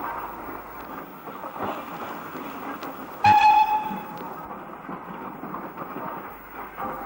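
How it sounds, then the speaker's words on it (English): Steam locomotive Ginty 47450 pulling out of Crewe South shed, a faint, steady rumble broken by one short, bright whistle blast midway. "We leave Crewe South shed with one of the station pilots going on duty, Ginty 47450, which had been at Crewe since the 1950s."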